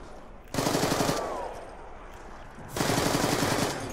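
An AK-74U firing in Black Ops 2's Die Rise zombies mode: two rapid automatic bursts, each about a second long, loud and close, separated by a short pause filled with quieter game ambience.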